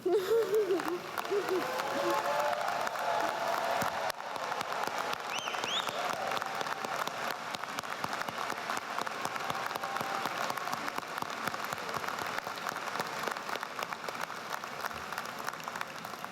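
Graduates rise at the 2022 GW Columbian College undergraduate ceremony and applaud and cheer; dense, sustained clapping from a large crowd fills the hall for the whole stretch, steady and continuous with no clear voices above it.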